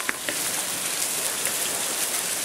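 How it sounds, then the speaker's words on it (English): Heavy storm rain in Spain pours down in a dense, continuous hiss, loud and unbroken, with a couple of faint taps near the start and no voices. "When it rains in Spain, it does not stay mostly in the drain."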